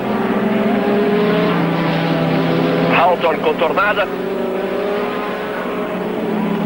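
Formula 1 race cars of the 1985 season scream past at high speed during the European Grand Prix, with steady high-pitched engine whine and a brief swell as cars pass, under continuous commentary.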